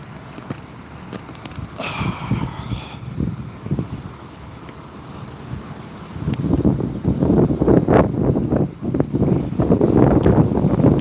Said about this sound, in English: but it's windy.